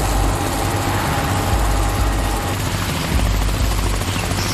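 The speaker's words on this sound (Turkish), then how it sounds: "Helikopter var tepemizde." A helicopter roars close overhead, a loud steady rotor and engine drone with no talking.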